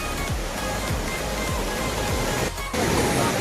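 Water gushing steadily at a dam, a loud, continuous roaring rush that fills the whole clip, briefly dipping for a moment before resuming at full strength.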